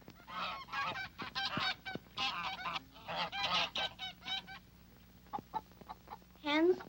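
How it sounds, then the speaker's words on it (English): Geese honk repeatedly in loud, close, brassy calls arriving in uneven clusters, ending with a rising, drawn-out honk. "Geese honk."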